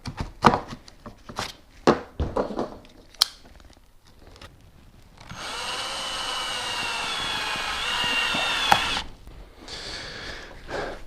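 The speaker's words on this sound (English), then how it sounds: "That one's all drilled out too." A power drill bores out foam for a rod holder on a Porta-Bote, starting with a series of sharp knocks and cuts, then a loud, steady whining drill run of a few seconds that stops abruptly.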